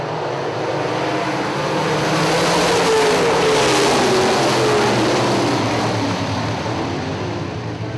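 Late model race cars roar past at Hartford Speedway in a loud, continuous wall of engine noise, with a swelling pass-by as the pack sweeps through.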